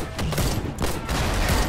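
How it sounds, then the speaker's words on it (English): Gunfire rattles in the naval warfare game Foxhole, with bursts of rapid shots during a gunboat fight, loud and close, with a few distinct sharp volleys over under two seconds. "Keep shooting it."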